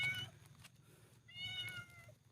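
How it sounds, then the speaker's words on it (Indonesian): Cat meowing at night in a forest during solo camping, two drawn-out meows close by over a low steady background hum. "ini kucing jinak banget ya."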